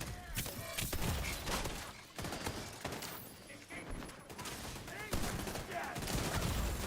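Turret gunfire in the Destiny 2 video game, with dense, rapid bursts and scattered impacts that come loud and chaotic, easing briefly midway before surging again, with a voice talking at times.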